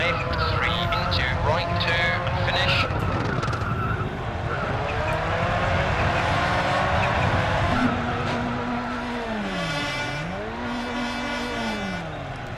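A rally car in the video game WRC II Extreme drives at speed, with a loud continuous engine drone, revs rising and falling and tires squealing through the slides, all without a break.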